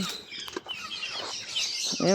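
Poultry kept indoors chirp and cheep in quick, high, overlapping calls against a low background hum. The calls are moderately close and keep going, with a louder burst of chirps at the end.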